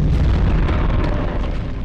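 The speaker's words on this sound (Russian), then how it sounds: "Ты что, что-то взрываешь, рыжий?" An explosion in the horror game Penumbra: Overture, a loud sustained rumbling blast that fills the whole moment with dense low-heavy noise and fades only slightly at the end.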